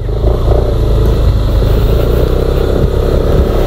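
A Yamaha Aerox 155 scooter accelerates on a test ride: a loud, close, continuous engine drone with a steady rumbling tone that holds without letting up.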